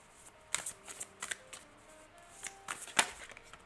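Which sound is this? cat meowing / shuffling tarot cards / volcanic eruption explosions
shuffling tarot cards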